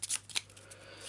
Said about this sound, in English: We'll give it a shuffle.